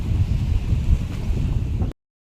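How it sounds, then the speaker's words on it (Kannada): A cold evening wind blows on the beach at Kodi by the sea, producing a steady low rumbling buffet against the microphone that cuts off abruptly. "ನೋಡಿ ಹೆಂಗ್ ವೆದರ್ ಇದೆ, ಫುಲ್ಲು ತಣ್ಣು ಗಾಳಿ ಬರ್ತಿದೆ"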